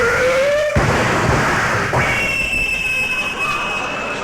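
A man vocally imitates a cops-and-robbers scene: a rising siren wail, a sharp burst like skidding brakes or a gunshot, then a long whining ricochet tone, all loud and close.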